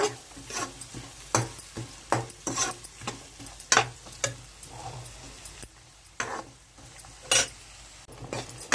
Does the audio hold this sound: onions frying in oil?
yes